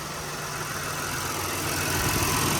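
A 2023 Honda Ridgeline engine idling steadily at close range, a smooth continuous low hum and broadband whir that holds level and grows slightly louder near the end, with no talking.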